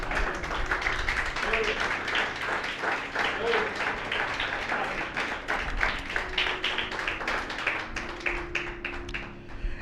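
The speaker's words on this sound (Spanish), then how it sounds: "Den un aplauso al Señor." A church congregation applauding during a Spanish-language sermon, steady dense clapping that fills the room for the whole stretch, loud and continuous with a few voices mixed in.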